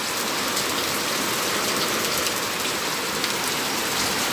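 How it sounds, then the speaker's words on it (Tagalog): Heavy rain driven by strong wind in Butuan City, Philippines pours down as a loud, dense, steady hiss that stays constant throughout, with no talking. "umulan naman din na malakas at saka malakas yung hangin guys"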